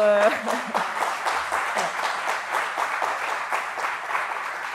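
Steady audience applause fills a French workshop-wrap-up gathering, a dense even patter of many hands that starts right after a brief voice and carries on at an unchanging level.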